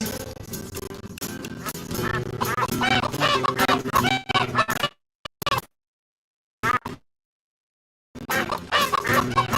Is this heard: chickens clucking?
yes